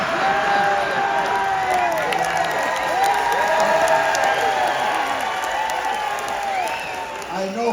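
A studio audience on a celebrity game show cheers and applauds steadily, with whoops and shouts rising over continuous dense clapping.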